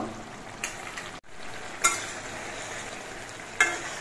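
Khoyra fish curry with coriander leaves simmers in a pan, a low steady bubbling hiss broken by three sharp utensil scrapes spaced over a few seconds.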